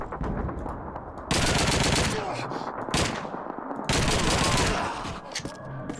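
Call of Duty 2 gunfire during an assault. Dense, loud automatic fire comes in long bursts that break off briefly and start again, with no voices.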